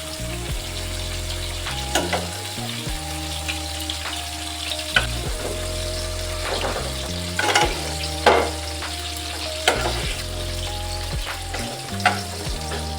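Tinda (round gourd) and potatoes fry in cooked spice masala in a pan, a steady close sizzle with repeated stirring scrapes breaking through, with no talking.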